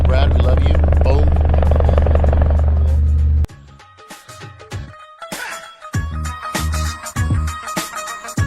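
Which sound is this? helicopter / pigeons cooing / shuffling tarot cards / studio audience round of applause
helicopter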